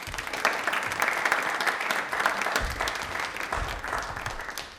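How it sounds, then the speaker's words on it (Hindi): Studio audience on a television quiz show clapping for a guest, a sustained, dense round of applause from a fairly small crowd that holds steady throughout, close and lively with no one speaking over it. "तालियां एक बार इनके लिए जोरदार हो जाए प्लीज"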